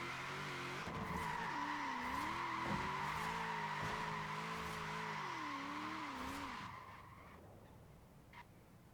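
A car in Forza Horizon 4 slides sideways on an automatic transmission, its tires squealing in a long, wavering, sustained screech over engine drone before fading out.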